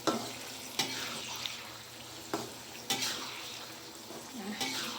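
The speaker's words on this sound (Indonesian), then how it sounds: "Lalu aku aduk-aduk" Eggplant being stirred in a boiling pan, with a scattered series of clinks and scrapes from the utensil against the pan over a steady bubbling, sizzling bed of cooking noise.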